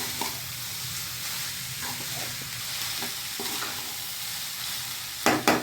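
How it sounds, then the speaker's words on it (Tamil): Cooked rice is stirred into a lemon mixture in a pan with a steady, soft sizzle and scraping, ending in a few louder stirring scrapes. The lemon mixture holds turmeric, salt and asafoetida. "இப்போ சாதம் வடித்து வச்சுக்கிற சாதத்தை அதில் போட்டு கலரி இறக்கிடணுங்க"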